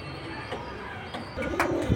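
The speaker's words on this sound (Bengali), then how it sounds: "আজকে কবুতর চলে আসতেছে যেগুলো সব" Pigeons at a high-flying pigeon sale coo softly in a steady low murmur, with a few brief louder calls toward the end, no talk over them.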